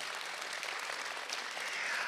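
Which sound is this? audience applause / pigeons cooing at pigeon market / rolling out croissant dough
audience applause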